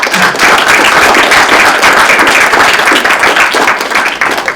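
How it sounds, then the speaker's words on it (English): Audience applause for a speaker after a debate on theism and the rationality of the universe: dense, loud, continuous clapping from a crowd, sustained throughout with no voices above it. "can we get another round of applause for the speaker, please?"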